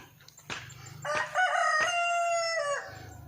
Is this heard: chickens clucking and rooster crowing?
yes